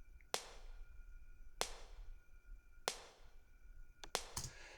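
Layered snare drum samples, heavily EQ'd and compressed, heard as four sharp cracking hits spaced about a second apart plus a quick double hit at the end, close and alone.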